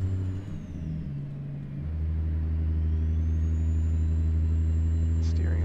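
A Ruda Classic XL tridem day cab hauling a 172,000 lb heavy load in American Truck Simulator, its diesel engine droning low and steady under throttle, shifting pitch once early before settling into a sustained heavy rumble.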